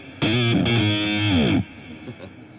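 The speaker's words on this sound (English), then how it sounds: "You can do distorted guitars." A heavily distorted electric guitar, made with a noise box and amp-cabinet convolution reverb in Unify software, rings out in sustained chords, briefly cut then resumed, ending abruptly after about a second and a half.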